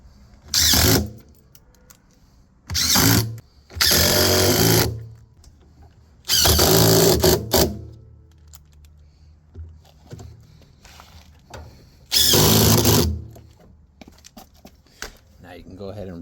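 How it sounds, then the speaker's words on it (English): A power screwdriver drives eight screws back into an LG washer, with several short, loud whirring bursts of about a second each, spaced apart by quieter handling sounds. "screw all 8 screws back in."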